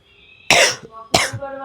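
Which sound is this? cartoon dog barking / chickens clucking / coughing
coughing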